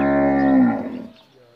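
A Nili Ravi buffalo gives a single close, loud moo that holds steady then fades out over about a second, with no talk over it.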